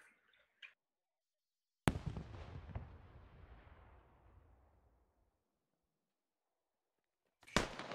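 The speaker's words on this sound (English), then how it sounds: "Alright, I'm throwing my nade now." In the video game SquadOps, a thrown grenade goes off with one sharp, loud blast whose rumbling tail fades over a few seconds, framed by brief bursts of other game sounds.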